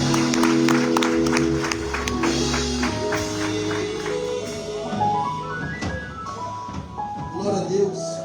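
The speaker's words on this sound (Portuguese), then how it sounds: "E as palmas louvem ao Senhor" A church congregation at a Sunday family service claps in praise, rhythmic hand claps mixed with music and voices throughout.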